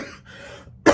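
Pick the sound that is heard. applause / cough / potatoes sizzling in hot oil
cough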